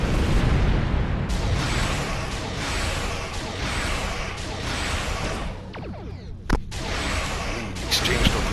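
Photon torpedoes launch and detonate in a Star Trek space-combat video game: a run of loud whooshing blasts and rumbling explosions over a dense, steady low roar, with a sharp crack near the end.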